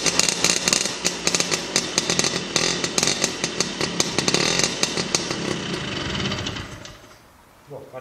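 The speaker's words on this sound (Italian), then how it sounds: "vediamo un po' se parte questo motore che abbiamo revisionato stamattina" A freshly overhauled Vespa scooter engine fitted with a Polini 102 kit, held in place by foot on a workbench, fires up and buzzes loudly at high, raspy two-stroke revs, then cuts out and falls quiet near the end.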